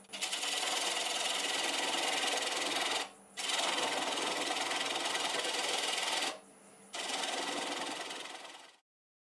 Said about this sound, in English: Half inch bowl gouge, and I'll start by removing most of that tenon.